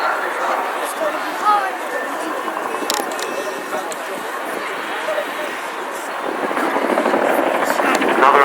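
A Chinook helicopter flying a display at an airshow, its rotor noise a broad, steady roar that swells toward the end, with crowd chatter mixed underneath throughout.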